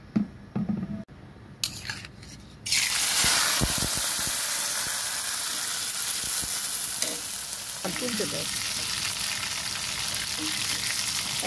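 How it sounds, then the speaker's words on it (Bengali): Prawns dropped into hot oil and fried, a sharp clatter and burst giving way to a loud, continuous sizzle that stays steady for several seconds, with faint voices in the background. "চিংড়ি মাছগুলো একটু ভেজে নিব।"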